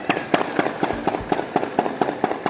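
Rapid bursts of gunfire crack out at a kite festival, the Basant Mela in Sialkot: about a dozen sharp reports in a fairly steady, slightly uneven rhythm, loud and close.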